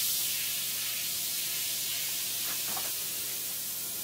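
Baking soda fizzes as it neutralizes acid used to strip the aluminum coating from a telescope mirror, giving a steady bright hiss of bubbling throughout with a couple of faint splashy pops.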